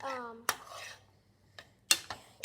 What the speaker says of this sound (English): keep mixing until the beans are fragrant